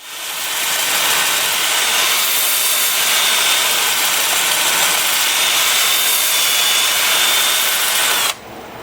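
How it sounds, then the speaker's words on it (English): Wood pedestal being sanded on a lathe spinning forward at 380 RPM, progressing from 80 grit up through 400: a steady, loud broadband whir with a faint high whine throughout, easing down near the end. "I've got the lathe spinning forward at 380 RPM"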